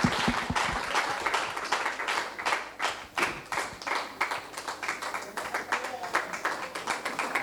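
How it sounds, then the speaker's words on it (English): Applause and clapping for the organizers of an AI conference in 2022 as they come on stage, loud and close, with sharp individual claps over a steady crowd wash and voices talking through it. "They deserve a very, very big applause for that."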